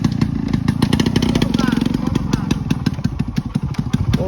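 A motorcycle engine runs close by with a fast, even thumping beat that stays steady throughout, while people talk over it.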